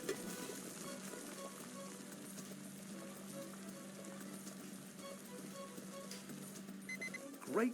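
Meatballs sizzle in a frying pan in a cooking video game, a soft steady frying hiss that continues evenly and quietly before a brief louder sound at the end.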